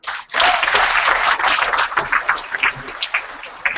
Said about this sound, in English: I want you to give a round of applause just for that.